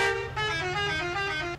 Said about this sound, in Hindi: अरे हॉर्न क्यों मार रहा है यार